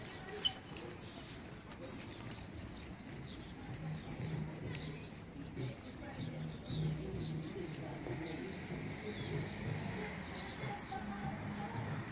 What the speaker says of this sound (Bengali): আর পাখির কিচিরমিচির ডাক শুনতে কার ভালো লাগে